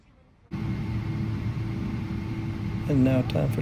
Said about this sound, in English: As we push back and prepare to start the number 2 engine